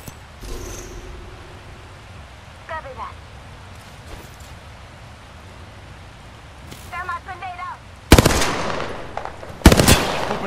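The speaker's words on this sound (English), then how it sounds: "Shots fired, and they're hitting me." Gunfire in the Apex Legends video game, two loud bursts of shots near the end after a quieter stretch with brief chirping effects and game voice callouts.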